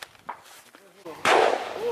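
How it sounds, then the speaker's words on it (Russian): Ammunition cooking off inside a burning house during heavy fighting in Ilovaisk in the Ukraine war: a few sharp cracks, then a loud broadband burst of crackling that carries on, with voices talking nearby. "Это в доме патроны взрываются."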